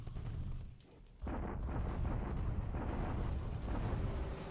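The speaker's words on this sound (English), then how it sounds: "I hate bombardments" Naval bombardment explosions in the wargame War in the Pacific rumble deep and heavy, a brief lull giving way to a sudden louder, sustained barrage of booms.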